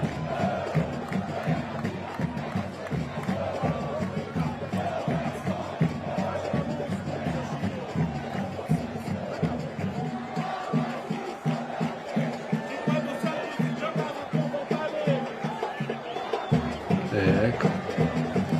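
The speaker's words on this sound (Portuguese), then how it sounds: "Teve um vídeo aqui da torcida na bronca" Angry football supporters chant and shout together as a dense, roaring stadium crowd with rhythmic pulses, loud and continuous throughout.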